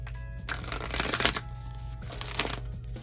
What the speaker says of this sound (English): I'm just going to go ahead and shuffle these crystal options a little bit more